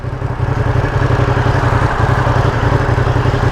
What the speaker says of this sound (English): I'm wondering if the exhaust sounds this way because it's a brand new bike